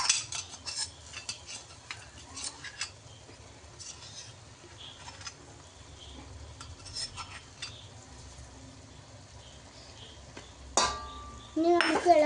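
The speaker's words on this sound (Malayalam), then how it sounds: "ഇനി നമുക്ക് ഇളക്കി കൊടുക്കാം." A metal spoon scrapes and clinks against a pan while mushroom masala is stirred, giving irregular soft taps and scrapes with quiet background hiss and a brief louder clatter near the end.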